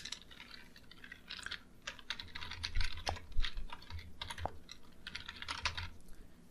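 Fingers type on a computer keyboard in quick irregular bursts of close, light key clicks, with a few heavier taps and brief pauses between runs, at a quiet level.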